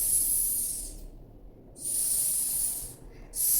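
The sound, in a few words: voice imitating the hissing sound of the letter S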